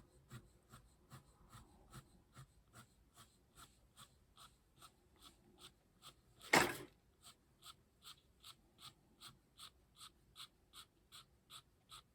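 Fine-tipped 0.3 pen drawing small strokes around the edge of a passion flower painting, a steady series of short, soft scratchy marks repeating evenly, close and quiet, with one brief louder rub midway.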